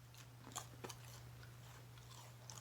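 Peppered beef jerky chewed and crunched up close, with a few sharp bites standing out early and softer chewing after, all quiet over a steady low hum.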